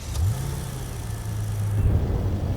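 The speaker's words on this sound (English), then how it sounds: "Then I used car engine sound." A car engine used as a sound effect, a low, steady hum that swells slightly midway and rises again near the end, with no talking over it.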